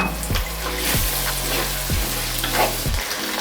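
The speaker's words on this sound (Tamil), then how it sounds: "ஸோ நம்ம இஞ்சி பூண்டு பேஸ்ட் போட்டதுக்கப்புறம் கொஞ்சம் நேரம் வந்து நல்லா வதக்கிட்டு இருக்கணும்" Ginger garlic paste sizzling and sautéing in a hot pan for a lung fry, a steady close frying hiss broken by a few regular stirring scrapes, with no talking.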